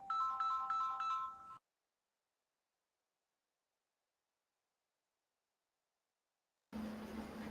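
A phone ringtone plays a short repeating electronic melody for about a second and a half, then silence, followed by a burst of noise at the end.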